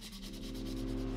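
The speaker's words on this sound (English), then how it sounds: "followed by a quick sanding to remove any splinters." Brief sanding of a wood paddle's routed edge to remove splinters, a soft steady rubbing scrape under a low hum, faint and close.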